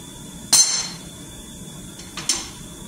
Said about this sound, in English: you just line your hammer up right on the threads and just start smashing it.